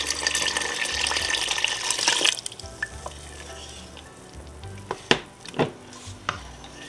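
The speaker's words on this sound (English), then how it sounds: "And I'm going to add another 2 cups of water." Two cups of water poured into a simmering pot of pasta e fagioli with pasta just added: a steady rushing hiss for about two seconds, then quiet with several sharp clinks and knocks of a spoon against the pot.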